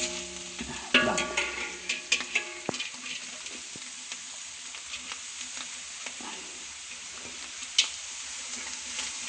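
Carrots fry in a pan with a soft, continuous sizzle, broken by sharper crackles and occasional clinks of stirring near the start and toward the end.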